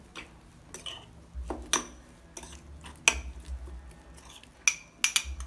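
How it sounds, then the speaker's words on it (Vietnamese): A spoon stirs a small mix of grated potato pulp and baking soda in a bowl, giving sparse, irregular clinks and taps against the dish, with quiet gaps in between and no voices. "Các bạn trộn đều lên."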